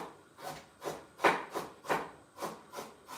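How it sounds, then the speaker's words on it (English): A knife chops a carrot into small fine pieces on a board, giving about eight soft, evenly spaced strokes at a steady rhythm, quiet and close. "So I'm also cutting my carrot, just small, finely."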